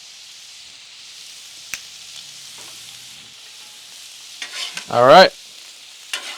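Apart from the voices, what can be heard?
vegetables and pork frying, stirred on Blackstone griddle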